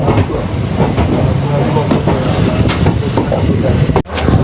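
Heard from inside a passenger train running on rails toward Lumding station, a loud, continuous rumble with rhythmic wheel clatter and a sharp thump near the end.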